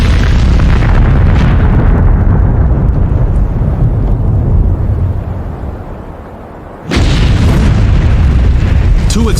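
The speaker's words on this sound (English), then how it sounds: "Then, the ammonium nitrate ignites." Ammonium nitrate stockpile detonating in a warehouse fire, a loud, sustained booming roar filling the scene, dipping into a brief lull before a second sharp blast surges back at full force.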